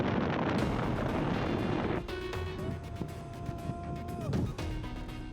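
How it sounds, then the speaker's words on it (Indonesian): Tornado winds roar across a beach at Kedung, Jepara, Central Java, recorded on a mobile phone: heavy broadband wind buffeting the microphone, easing slightly partway, with tonal mechanical whines and faint voices underneath. "angin puting beliung menerjang kawasan pantai Kedung Jepara, Jawa Tengah"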